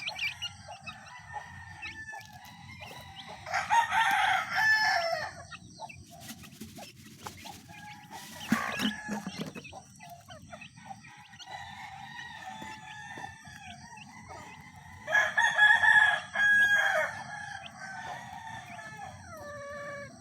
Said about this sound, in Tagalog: pinapakain na natin ating mga manok